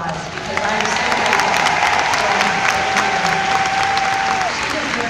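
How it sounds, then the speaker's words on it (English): Large arena crowd at a Mary Kay seminar gives loud, sustained applause with some cheering mixed in, a thick continuous roar of clapping, while a long steady tone rings through it. "So do give her a huge round of applause"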